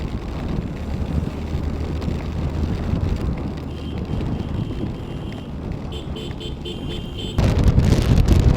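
Motorcycle riding on a highway after rain, with a steady, heavy wind rush buffeting the microphone throughout and a low engine drone underneath that grows louder near the end.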